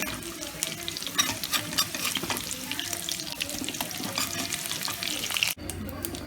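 Eggs frying in hot oil in a pan for an egg and cashew masala curry, with a steady close sizzle and a few scraping and turning clatters, ending in a brief sharp knock.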